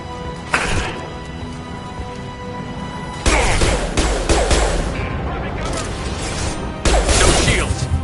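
Video game gunfire comes in loud bursts of rapid automatic shots, broken by quieter stretches of ambient noise, with one sharp shot early and further bursts midway and near the end.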